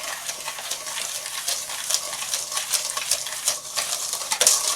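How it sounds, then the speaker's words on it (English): Butter and two kinds of sugar being stirred together in a bowl, a steady scraping, gritty mixing sound with light clinks of the utensil against the bowl sides for a pumpkin pie muffin batter. "And now let's just bring the 2 sugars and the butter mixture together."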